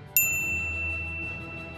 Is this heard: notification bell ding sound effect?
yes